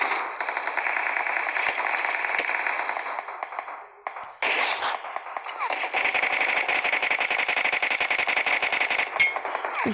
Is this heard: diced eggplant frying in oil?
no